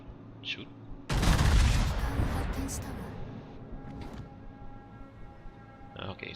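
Warship guns fire a heavy booming salvo in the naval combat game World of Warships, a loud blast that rolls and decays over a couple of seconds, with a smaller report afterward.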